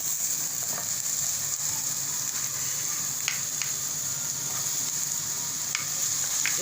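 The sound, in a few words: green onions frying and being stirred in a pan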